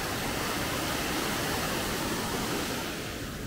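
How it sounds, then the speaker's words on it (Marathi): A small stream on the Kalsubai trek in Maharashtra rushes steadily with a loud, dense broadband wash of water, constant and unbroken, with no voices over it. "तुम्ही बघू शकता मागं असा एक छोटासा ओढा आहे"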